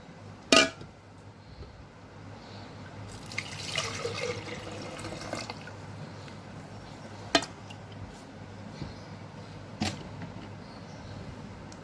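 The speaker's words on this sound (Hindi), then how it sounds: "पानी शामिल करेंगे बर्फ़ वाला" Ice water pours into cream in a short steady stream for a couple of seconds, with a few sharp clinks and taps before and after in a quiet kitchen.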